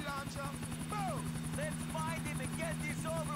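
Helicopter in GTA IV, a quiet, fast rotor chop with a low engine hum running under bird-like chirps, with no voices.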